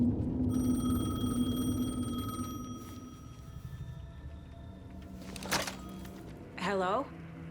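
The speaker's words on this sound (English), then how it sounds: "The payphone was ringing." A payphone rings in the video game Alan Wake 2, a steady electronic ringing tone held over a low ambient rumble, with brief whooshing and warbling game effects near the end.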